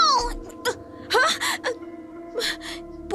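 A cat wails in a few drawn-out, wavering cries with short gaps between them, fairly close and clear against a quiet background.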